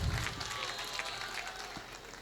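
Audience applause at a mushaira poetry recital in Fatehpur, a broad, fairly faint wash of clapping from the crowd that continues steadily throughout.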